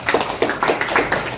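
Seminar audience at a sharia business event in Palu clapping briefly, a quick run of distinct hand claps with a loose rhythm, fairly close and moderately loud, without talk over it.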